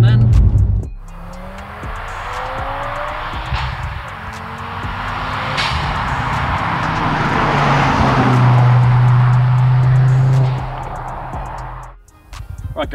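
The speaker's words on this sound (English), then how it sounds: "They've still got the active exhaust, so you can open and close the valve if you want." A Stage 3 big-turbo Audi TT RS Mk2 five-cylinder with active exhaust pulls hard under acceleration: a loud, sustained engine roar with rising tones and turbo whoosh as the car is driven, with someone talking over it.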